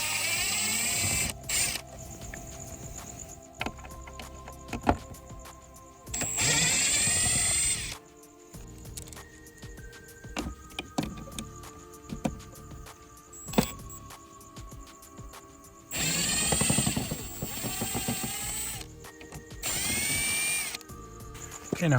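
Power drill backing out screws on a truck tow mirror shroud: several short bursts of whirring motor spin, starting and stopping irregularly with quiet handling noises between, close up and without talk.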